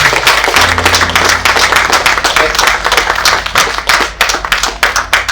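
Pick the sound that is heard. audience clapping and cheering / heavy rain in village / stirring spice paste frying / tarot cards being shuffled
audience clapping and cheering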